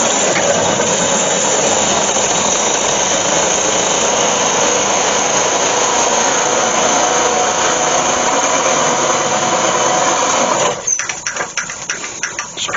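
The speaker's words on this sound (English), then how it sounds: "I'm going to go down through there with a large forceps bit. This will just take the bulk of the wood out through the middle." A large Forstner bit bores out the centre of an ash bowl, making a loud, steady, close grinding roar for about eleven seconds before it abruptly winds down.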